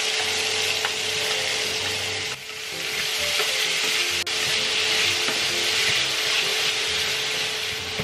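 Carrots and bell pepper fry in olive oil in a pan at a home kitchen, giving a loud, continuous hiss and sizzle with occasional scraping and stirring sounds.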